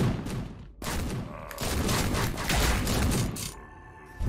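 Rapid bursts of pistol fire in the Titan Slayer 2 VR game, loud close shots crowding together with mechanical clatter and short gaps between volleys, no talk.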